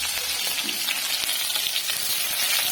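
Chopped onion and panch phoron frying in hot oil, a dense, loud, continuous sizzle heard up close with light stirring scrapes and no speech.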